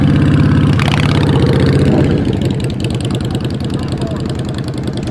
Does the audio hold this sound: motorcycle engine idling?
yes